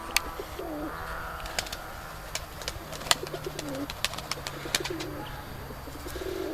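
Flying pigeons, white birds among them, are let out of a loft, with sharp wing claps and flutters scattered over soft, intermittent cooing at moderate distance.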